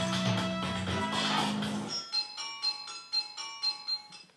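A looped music track extended in the Reaper audio editor plays dense and full, then restarts into a sparser section of bright repeating tones pulsing in a regular rhythm, with no break at the join.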